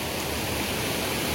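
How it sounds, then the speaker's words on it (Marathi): A waterfall pours down beside a rocky stream bank as a dense, steady, broadband roar, loud and close, with no voices. "धबधबा पडतोय वरून कडेलाच मस्तपैकी."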